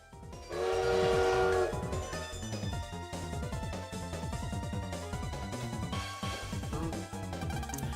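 Inside the Mega Man Star Force video game, a train moves with a loud whistle-like tone near the start. Rumbling rail clatter and game music carry steadily after it, and nobody speaks.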